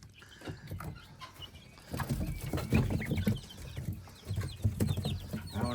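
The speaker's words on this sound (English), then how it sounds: "Oh, the duckies are growing up." Young ducks being raised for sale give soft, busy peeping and chirping calls in a steady scattered chatter, fairly quiet and close, with faint rustling and movement around them.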